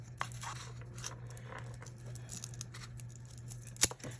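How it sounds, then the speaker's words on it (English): Scissors snip through inexpensive craft material for a boho-style wall hanging, a few quiet, close cuts and crinkles with one sharper snip near the end, with no talking. "Now I'm gonna use scissors."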